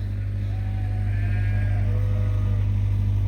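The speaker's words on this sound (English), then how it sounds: "these ewes are all in the late group bred, so Ben, leave them alone, Ben." Ewes in a barn bleat a few times, with wavering, drawn-out calls of moderate loudness over a constant low mechanical drone.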